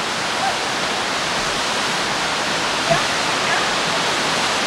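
Steady broadband rush of a waterfall or stream along a New Hampshire trail, continuous and fairly loud throughout with only faint small bumps and no clear speech over it.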